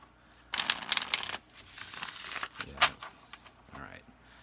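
A tarot card deck being shuffled, bursts of riffling and sliding cards, close and moderately loud, with pauses between bursts.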